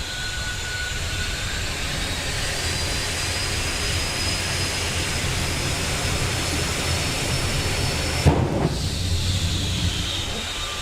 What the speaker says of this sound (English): there was an afterburner pop and then some overrun.